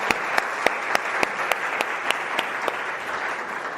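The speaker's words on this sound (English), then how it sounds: "I'm going to need us to please do another round of applause for this amazing facilitator." Applause for a facilitator at a climate solutions forum, dense crowd clapping with a few sharp louder claps standing out at regular intervals, sustained and close for the whole span.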